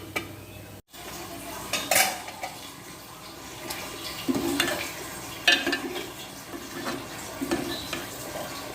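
Potatoes with a little water being stirred and mixed in a cooking pot for an eggplant and potato dish, with a steady scraping and clinking of a utensil against the metal and occasional louder knocks, close by.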